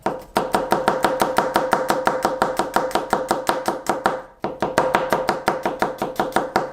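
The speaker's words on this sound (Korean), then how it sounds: "마늘의 형태가 크게 구애받지 않고 큼직큼직하게 썰어주는 게 포인트라고 말씀드렸어요" Steady, rapid knife chopping through garlic into large pieces on a cutting board, loud and close, with a brief pause partway before the rhythmic strokes resume.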